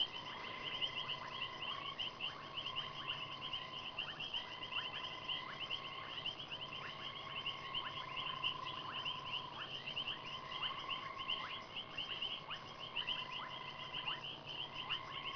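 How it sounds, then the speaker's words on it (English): Several frogs call at once in repeating trills and chirps, a steady nighttime chorus at moderate distance with a faint background hum. "There are a number of different frogs calling."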